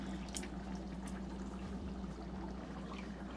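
Fufu mixture thinned with water is worked through a fine sieve, giving a soft, continuous wet trickling and dripping close by, quiet and steady, with a low background hum.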